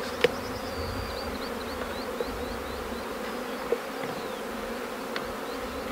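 Honeybees buzz steadily around a beehive during honey harvesting, a dense continuous drone with a few sharper clicks, no voices.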